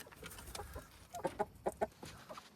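Chickens and a rooster cluck softly nearby in a garden after rain, with a few sharper, louder clucks in quick pairs over a quiet farmyard background.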